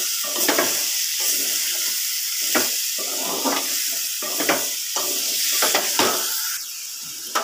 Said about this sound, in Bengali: ওর জন্য দাঁড়াগুলো বেশ করে কষিয়ে নেব